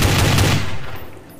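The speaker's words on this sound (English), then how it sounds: "All I got is this machine gun." Machine gun fire in Counter-Strike: Source, loud and close. A rapid continuous burst rattles for about a second, then quickly dies away.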